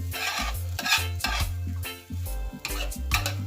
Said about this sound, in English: kind of fry up our, caramelize our white onion